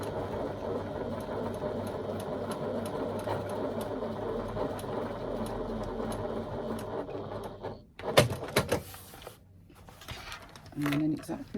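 A sewing machine runs in a steady fast whir while stitching the side seams of a fabric bag, with a voice talking over it, then the motor stops and a few knocks and handling sounds follow.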